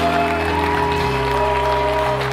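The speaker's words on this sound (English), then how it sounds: "give Jesus the biggest round of applause you've given Him all day" Church congregation at a worship service applauding in a loud, continuous wash of clapping, with sustained tones from music or organ droning underneath.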